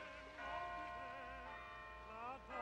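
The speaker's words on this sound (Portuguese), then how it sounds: "Um relógio batendo e som de ondas." A clock tower bell in a Carmen Sandiego cartoon, a sustained ringing tone that lingers and slowly fades, with no clear wave sound beneath it.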